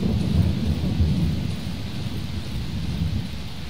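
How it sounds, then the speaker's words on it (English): Rain and low rolling thunder in the horror video game Darkwood, a steady wash of rainfall under a continuous deep rumble with no voices. "It's raining again, too."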